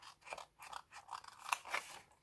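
Small scissors snip through paper in a quick series of quiet, close crisp cuts, with no talking.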